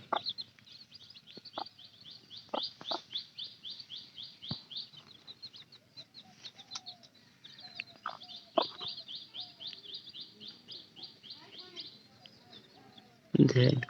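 Young desi chicken chicks pecking at rice and chirping, a rapid, high, repeated peeping that continues throughout, with occasional soft knocks and a brief loud bump near the end.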